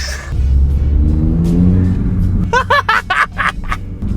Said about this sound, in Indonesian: knalpotnya udah direvisi. Enak banget suaranya.